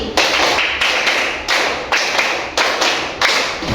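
A class of students claps hands together in a steady counted rhythm, about eight crisp, evenly spaced claps close by with no talking.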